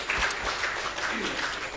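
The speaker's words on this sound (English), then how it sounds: "Let's give a very round applause to all of them." Applause from an audience at an international academic conference, a brief, even wash of many hands clapping at moderate level from start to finish.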